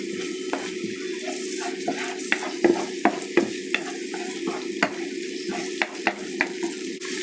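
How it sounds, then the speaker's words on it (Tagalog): Onion blend frying in a pan for an Indian-style fish curry, a steady close sizzle with repeated scraping stirs and occasional utensil knocks, no voices. "Lagyan na po natin ng ating onion blend."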